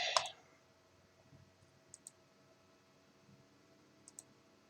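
Computer mouse clicks in a quiet room, one sharp click at the start followed by a few faint, spaced taps.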